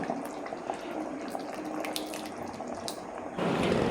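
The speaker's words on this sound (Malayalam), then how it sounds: "കറി വെന്ത് വരുമ്പോൾ നമ്മൾ തേങ്ങാപ്പാൽ ലേശം ഒഴിക്കുക." Coconut milk pours steadily into a pot of fish curry for several seconds, a continuous wet gush that swells louder near the end, with no voices.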